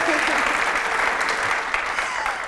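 An audience applauds steadily, a dense wash of clapping at an even level from start to finish.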